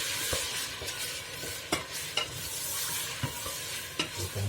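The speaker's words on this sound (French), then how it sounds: "Je continue de mélanger, de remuer mon mélange" Pork and onions being stirred in a pot, a soft continuous sizzle with intermittent scraping knocks of the spoon against the pot, close and fairly quiet with no talking.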